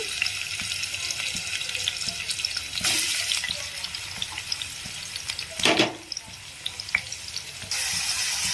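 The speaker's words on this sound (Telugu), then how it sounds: "ఈ ఆయిల్ మరిగిన తర్వాత ఇందులోకి మనం కట్ చేసి పెట్టుకున్న ఆనియన్ని యాడ్ చేసుకోవాలి" Chopped onion frying in hot oil in a pot for keema curry: a continuous close sizzle with crackles and a few louder stirring bursts, no talking.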